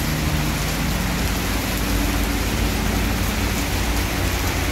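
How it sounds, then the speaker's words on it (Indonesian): Heavy rain pours steadily around a parked ALS bus, a dense, constant hiss with low rumbling underneath, loud and unbroken, with no talking. "Hujan tambah deras teman-teman."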